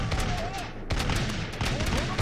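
Muskets crackle in ragged volleys across a battle in Totally Accurate Battle Simulator, a dense stream of overlapping shots with louder bursts, mixed with faint voices.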